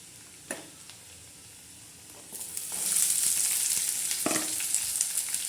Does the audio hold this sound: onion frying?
yes